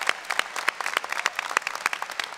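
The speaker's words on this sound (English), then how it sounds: "And you deserve to give yourself a round of applause." Audience applause at a university commencement ceremony, a dense burst of many hands clapping steadily throughout, fairly close and loud, with whoops and no speech over it.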